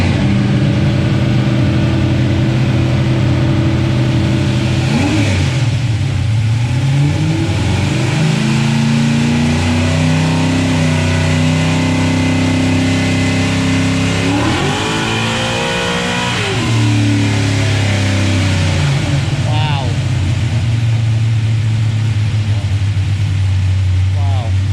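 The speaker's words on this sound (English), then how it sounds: "Power Glide 363, 200 shot. About to make a little bit of noise on the dyno" A 363 engine with a Powerglide transmission and a 200-shot nitrous setup revs hard on a dyno. The engine roars loud and close, climbing and falling through several pulls, with people talking underneath.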